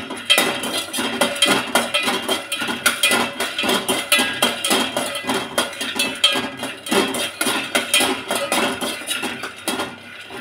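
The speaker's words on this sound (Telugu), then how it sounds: "కొన్ని శనగవిత్తనాలు వేసుకొని వాటిని వేయించండి దోరగా." Peanuts roast in a pan for a capsicum curry while metal stirring and scraping produce steady clinking and rattling at close range, with no talk.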